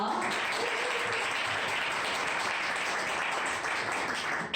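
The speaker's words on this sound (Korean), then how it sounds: "네, 박수 부탁드릴게요." A seated audience applauds a presenter at a self-promotion speech contest, a continuous even roar of many hands clapping for several seconds before tapering slightly at the end.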